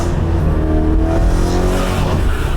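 A brand new BMW E92 M3 engine roars loudly and close, a steady, throaty drone held at high revs for the whole short stretch.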